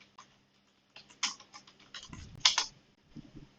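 Someone types on a computer keyboard in short, quiet bursts of clicky keystrokes. There are brief pauses between the bursts, and no voice is heard.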